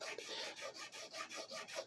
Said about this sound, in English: I don't want to waste too much time showing you filing this down.